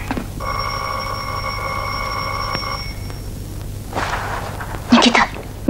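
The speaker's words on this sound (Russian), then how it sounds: "Никита, Никит, телефон" An old telephone bell rings in one long, steady burst lasting a couple of seconds, then stops; afterward come a few faint bumps and a short sharp knock, with no talking.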